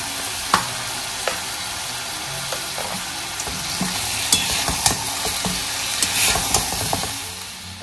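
Meat for Appu Donne biryani being stirred and fried in a pan with nutmeg powder, a steady close sizzle broken by repeated scraping stirs and clinks of the spoon, with no talking.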